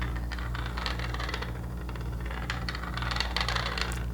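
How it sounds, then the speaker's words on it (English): A cast iron Akuroki hand coffee grinder being turned, heard close up as a continuous rattling, scraping whir with uneven crunching clatter over a steady low hum. "we've got here our cast iron grinder, hand grinder."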